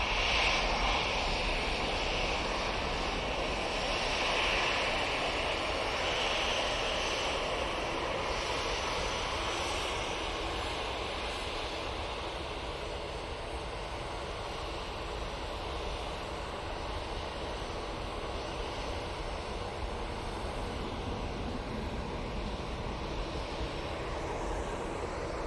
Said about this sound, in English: Next in will be the ATR coming in from Guernsey.